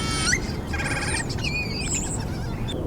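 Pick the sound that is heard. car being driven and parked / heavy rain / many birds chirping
many birds chirping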